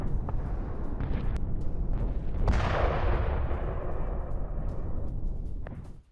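Israeli airstrikes hit Hezbollah positions in Lebanon, heard as a loud, continuous low rumble with a heavy blast about midway that rolls on before the sound cuts off abruptly.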